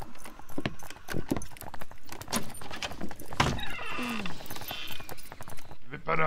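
A horse's hooves clip-clop in the Grizzly Gulch western game, an uneven run of loud, close footfalls among other game noises, with a brief snort or whinny-like sweep partway through.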